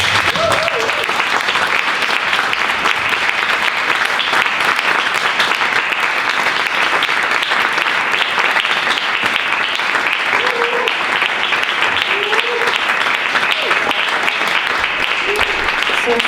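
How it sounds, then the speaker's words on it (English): Sustained audience applause for two artists after a performance at an Iran women's rights event, a loud dense continuous patter of many hands lasting throughout with a few faint voices. "But first I want to have another applause to those wonderful two artists"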